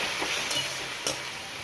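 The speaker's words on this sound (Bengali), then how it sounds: "এবার আমি এটা খুব ভালো করে আদা রসুনটাকে ভেজে নেবো" Ginger and garlic fry in a pan with a steady, close hiss of sizzling oil and a couple of brief stirring clicks, no voices.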